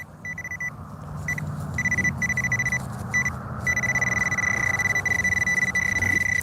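Metal detector tone from a buried can slaw target during a night coin hunt, a steady high-pitched beep repeating in short bursts and then holding continuously, heard alone and fairly close.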